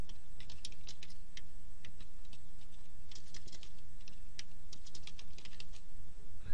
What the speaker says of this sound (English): If you type in speech recognition,